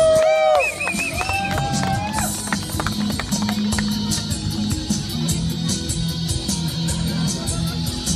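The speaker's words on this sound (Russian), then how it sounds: "Ваши аплодисменты!" Audience at a concert breaks into applause and cheering, a dense crowd roar with clapping that carries steadily over loud music throughout.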